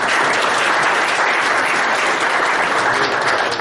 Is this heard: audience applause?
yes